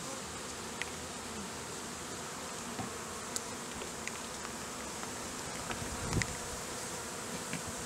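Steady, close buzzing of many honey bees droning continuously, with a few soft clicks and taps scattered through, as bees are returned to the hive after a sugar roll mite test.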